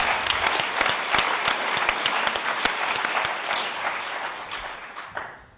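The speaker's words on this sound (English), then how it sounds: "Let's give applause for that" An audience applauds together, with dense, steady clapping that holds strong before thinning and fading toward the end.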